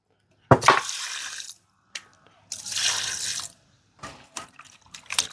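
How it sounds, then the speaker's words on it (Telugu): Fish being washed by hand in water: short bursts of splashing and sloshing separated by pauses, close and clear, with drips in between. "ఇప్పుడైతే మళ్ళీ కడుక్కుంటున్నాం."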